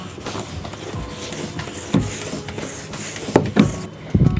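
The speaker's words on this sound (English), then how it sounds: "You're going to take your floor pump and put the straighter end on the valve and flip the lever." A floor pump inflating a Strider 20x Sport balance bike tire from about 20 toward 30 psi, giving steady hissing air and rhythmic pumping thumps at close range, with no talking.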